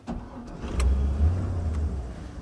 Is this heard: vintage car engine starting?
yes